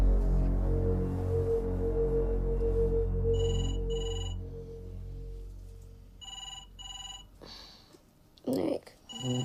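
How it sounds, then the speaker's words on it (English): Telephone ringing at 2 a.m., a few repeated electronic ring bursts rising over a fading low musical drone, followed by a quick sniff or breath and a voice. "Nick, it's the phone."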